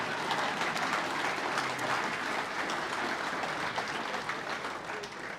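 Sustained applause from a large crowd at a sports awards presentation night, a broad, even wash of many hands clapping that holds steady and eases slightly toward the end.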